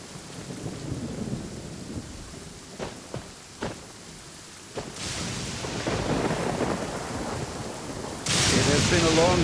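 Rain and thunder in the Genshin Impact video game: steady rainfall with low rolling thunder, a few sharp cracks, then heavier downpour swelling louder toward the end.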